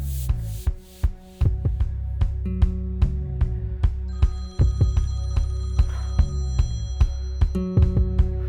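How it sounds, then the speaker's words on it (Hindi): A phone in a Hindi drama film rings with a repeating electronic ringtone melody over rhythmic thumping pulses, fairly loud and steady throughout, with no voices. "तुम्हारा फोन।"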